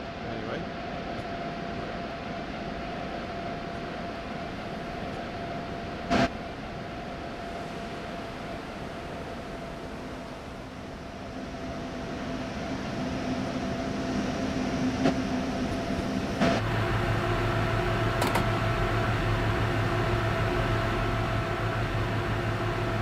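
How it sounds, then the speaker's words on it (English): The cab interior of a noisy train in Train Sim World 4 on the Brighton Main Line gives a constant loud rumble with steady whining tones that grow louder and shift pitch partway through, plus a brief clunk. "It's a very, very noisy train inside this, I have to say."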